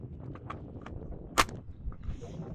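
A single sharp crack from an unsuppressed 9mm pistol firing a 147-grain round, one brief report fairly distant amid quiet background noise.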